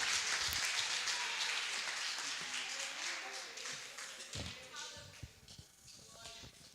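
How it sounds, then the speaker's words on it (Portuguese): A church congregation claps together during worship, a dense, steady patter of many hands that thins toward the end, with a few sharper claps standing out. "Vamos aplaudir ao Senhor."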